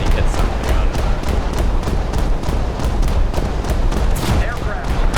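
Naval guns fire in War Thunder combat, dense rapid booms and thuds repeating over a rumbling, noisy battle bed while a voice talks beneath it.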